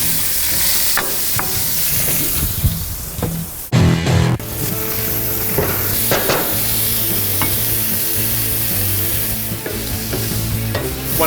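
Zucchini, daikon and shiitake mushrooms sizzle and crackle steadily in a hot stir-fry pan, with clattering stirring and scraping strokes throughout and a brief louder burst of hiss midway.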